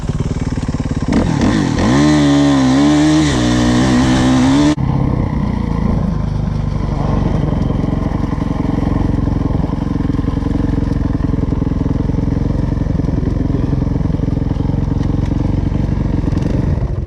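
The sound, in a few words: dirt bikes riding, a pit bike and a 450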